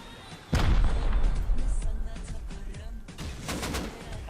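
Rocket fire in a video game raid: a sudden loud blast followed by rumbling explosion decay, then a second cluster of sharp bangs and crackling impacts near the end.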